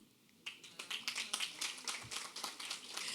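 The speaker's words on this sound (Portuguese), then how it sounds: "Palmas para mim" An audience at a seminar hall breaks into scattered clapping after a short quiet lead-in, the claps building into a steady ripple of applause that carries on to the end.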